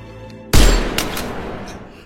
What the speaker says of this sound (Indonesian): Tae-sik pun langsung menembak orang tersebut.